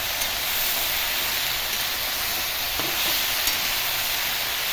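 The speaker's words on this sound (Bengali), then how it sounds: "এবার মশলাগুলোকে একসাথে নাড়াচাড়া করে ভাজতে থাকবো।" Garlic, ginger and chilli paste masala frying in a pan, giving a steady, close sizzling hiss throughout with no break and no voices.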